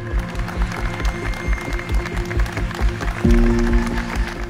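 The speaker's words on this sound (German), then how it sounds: "Die sind aufgestanden, haben geklatscht." A stadium crowd stands and applauds at a farewell match, a sustained roar of clapping and cheering with a rhythmic low pulse underneath that swells louder toward the end.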